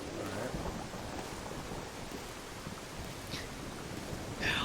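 Steady rain in the video game Final Fantasy VII Dirge of Cerberus forms a dense, even hiss with faint low rumbling, continuous and moderately loud, with a couple of brief brighter splashes.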